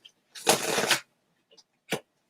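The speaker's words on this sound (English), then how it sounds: "Let me go ahead and shuffle." A deck of tarot cards is shuffled, with one short riffling burst followed by a couple of quick faint snaps, close up with no speech.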